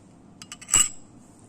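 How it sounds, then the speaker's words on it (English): A teaspoon scooping moringa powder from a container, a few light metallic clinks followed by one brighter scrape and tap, close and brief in a quiet room. "I'm going to take like a little teaspoon of it"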